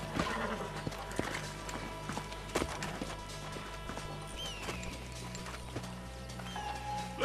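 Horse hooves clip-clop in a Red Dead Redemption game scene, a steady rhythmic walk of several horses with occasional snorts and a whinny, over faint ambient game sound.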